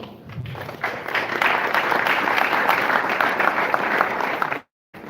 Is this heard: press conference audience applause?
yes